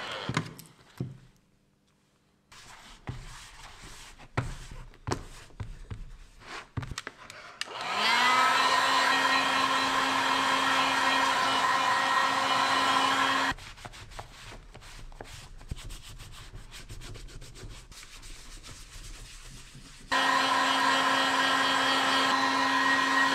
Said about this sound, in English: I'm just gonna melt it with the heat gun and rub it in with this cloth here.